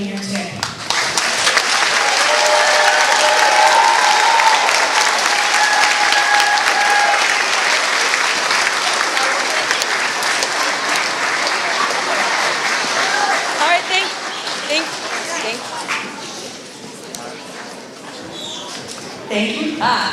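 An audience applauds after an elementary school all-county chorus concert, with loud sustained clapping that gradually thins toward the end, while a voice speaks over it.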